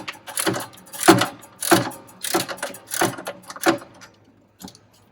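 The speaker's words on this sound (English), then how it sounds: "And then simply put your ratchet on here" A hand ratchet loosening a bolt on a vinyl bubbler: six or seven close, clicking ratcheting strokes in an uneven rhythm, each a short metallic burst, with a faint final click after a pause.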